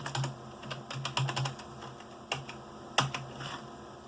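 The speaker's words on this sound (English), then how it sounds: "I'll just type my name" A name typed on a computer keyboard hooked to a Mid-2010 Mac Mini: a short, uneven run of crisp keystrokes, then a few spaced single taps, close and alone with no talking.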